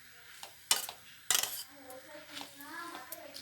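A spoon stirs chopped ridge gourd in a cooking pan, with a few sharp clinks of metal against the pan and soft scraping. A quiet voice is heard in the background.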